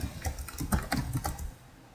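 Rapid typing on a computer keyboard as a search query is entered, a quick irregular run of light clicks close by that stops near the end, with no voices.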